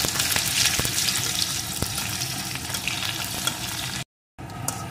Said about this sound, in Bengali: পেঁয়াজ কুচিটাও আমি একটু ভেজে নেব।